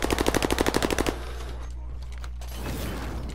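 Rapid automatic gunfire in the shooter game Modern Warfare 2, a fast, loud burst of about a dozen evenly spaced shots lasting around a second, then a low rumbling game ambience with no talk.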